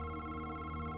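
A telephone ringing in the video game August Night, a steady electronic tone with sustained harmonics, fairly faint and continuous through the brief moment, with no voices.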